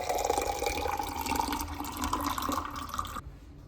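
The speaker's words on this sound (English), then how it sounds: "So I just pour myself some water." Water is poured into a glass in a holiday apartment in the Dolomites: a steady, close splashing pour runs for about three seconds, then cuts off abruptly.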